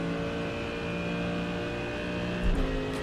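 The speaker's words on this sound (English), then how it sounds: "Car leaving the pits." A Mercedes GT3 race car in the iRacing sim pulls out of the pits at Mexico City, its engine droning steadily with layered tonal whine and a brief throttle surge near the end.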